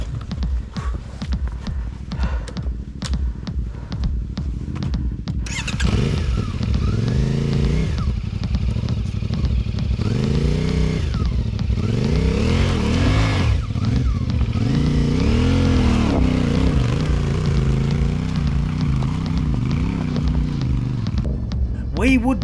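Adventure motorcycles ride wild, wet trail tracks, engines revving and throbbing up and down as throttle is worked hard through rough terrain, with a voice talking in places over the steady engine noise.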